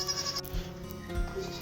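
Several goats bleat in a snowy farmyard during an ice storm in Texas, giving a few short, fairly close calls over a quiet outdoor background, with no talking.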